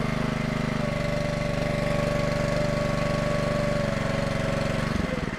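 The engine on a Split-Fire 2265 log splitter runs close by at a steady, loud, throbbing idle, its even pulse holding throughout before a brief change in tone near the end.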